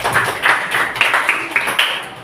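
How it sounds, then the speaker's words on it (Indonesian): A school class claps for a student in a run of quick, uneven hand claps, fairly close and moderately loud, over faint room noise. "Tepuk tangan untuk Kevin."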